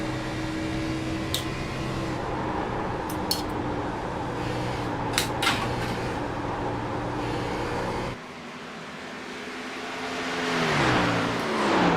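Stock cars racing at Indianapolis Motor Speedway: a continuous buzzing engine drone with brief sharp clicks, then a sudden drop and a rising rush of engine noise near the end.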